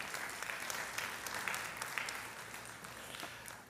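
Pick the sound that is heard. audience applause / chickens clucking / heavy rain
audience applause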